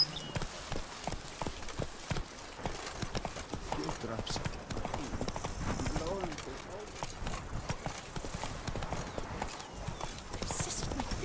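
Horse hooves galloping in The Witcher video game, a fast, driving clip-clop under continuous talk and music, with a brief whinny-like cry along the way.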